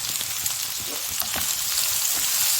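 Chicken pieces fry for Chinese pineapple chicken in a hot pan, giving a steady, close sizzle with light crackles and occasional stirring scrapes, no voices.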